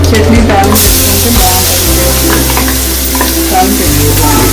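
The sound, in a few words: tempering mustard seeds, urad dal, cumin frying in oil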